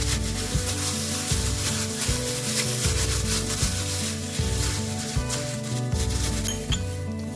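Black pepper and paprika being rubbed by hand onto a chicken steak, a close, repeated rhythmic rubbing and squishing that runs continuously.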